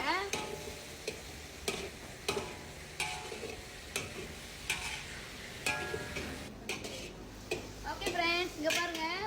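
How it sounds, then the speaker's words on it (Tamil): Prawns sauté in a little oil in a pan, with a soft sizzle and repeated sharp clinks of stirring close by while people talk over it. "கொஞ்சோண்டு எண்ணெய் ஊற்றி இதை நல்லா வதக்கிக்கோங்க"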